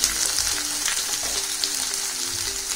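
Mixed vegetables and a few red chilies fry in a pot for vegetable pulao, making a loud continuous sizzle with occasional stirring noises, and no talk over it.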